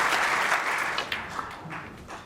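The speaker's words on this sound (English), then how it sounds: "There's the applause for a century" Steady applause from a snooker crowd at the World Championship, rising for a century break of 106 in O'Sullivan versus Campbell; a dense, even wash of clapping that thins slightly toward the end.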